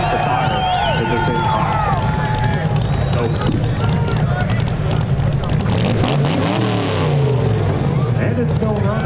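An LS-swapped, nitrous-fed Chevrolet S10 truck does a burnout, a loud, sustained engine roar with tire noise under excited crowd chatter and commentary voices.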